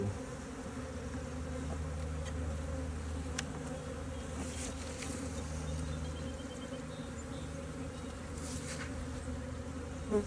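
Honey bees hum and buzz around an opened hive in spring, a close, steady drone with layered tones and a few brief individual buzzes passing near.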